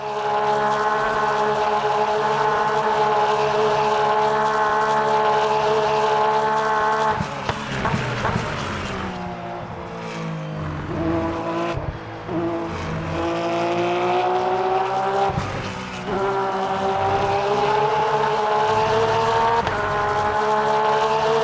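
Porsche GT3 race car in Le Mans Ultimate heard from outside, a loud continuous engine note holding steady then dropping and climbing again through gear changes as it passes, with no talking.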